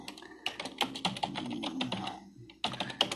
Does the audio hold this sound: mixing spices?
no